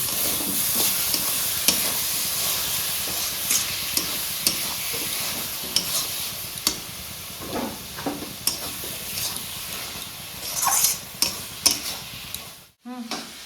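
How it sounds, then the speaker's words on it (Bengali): Radish curry is stir-fried in oil with a little sugar, a steady sizzle broken by repeated spatula scrapes and knocks against the pan, close and fairly loud, with a brief pause near the end. "ওপর থেকে একটু তেল দিয়ে দেবো, ভালো করে আবার কষিয়ে নেবো"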